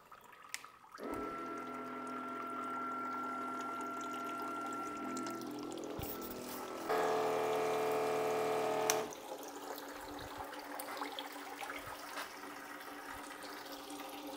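Pump flushing a maple syrup system with two gallons of permeate water at an off-grid sugarbush: a steady, quiet mechanical hum with running liquid that briefly shifts to a higher, stronger tone before settling back.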